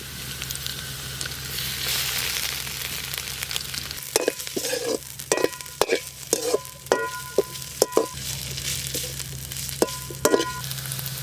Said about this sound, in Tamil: இஞ்சி பூண்டு விழுது